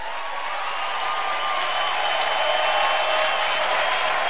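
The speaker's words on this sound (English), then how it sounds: "And there's the applause again." Studio audience applause fills the space as a continuous, even wash of many hands clapping, moderately loud and unbroken, with no speech over it.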